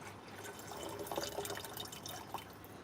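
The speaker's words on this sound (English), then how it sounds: "Pouring the water in to the kettle." Water is poured from a bottle into a kettle, a soft, close trickle and gurgle lasting a few seconds, fairly quiet, with no talking.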